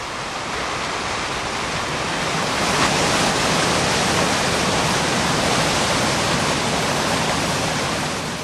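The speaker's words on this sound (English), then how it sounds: "The High Force Waterfall." High Force Waterfall on the River Tees, a broad, steady roar of heavy falling water, loud and continuous without change, no voices.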